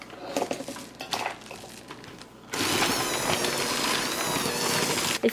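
Cookie dough being stirred in a bowl with white chocolate and cranberries folded in, starting with scattered scraping and clinking before turning into steady, close, continuous mixing noise.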